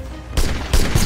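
Musket volleys in a Napoleonic Wars video game, two loud, sharp ragged bursts of massed gunfire crashing close together within a second.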